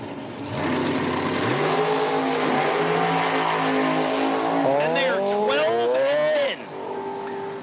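Outlaw Pro Mod drag cars with 250 blowers launch down a drag strip, their loud engines screaming as the pitch climbs through several quick gear-like sweeps, with a commentator talking over the roar.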